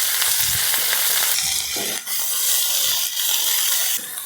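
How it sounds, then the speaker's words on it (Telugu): Torn green chilies frying with cumin tempering over a medium flame, a loud, steady hiss with scraping stirs and a few short dips as a spatula moves through the pan. "ఒక 10 పచ్చిమిరపకాయలను తుంచుకొని వేసుకొని ఫ్రై చేసుకుందాము"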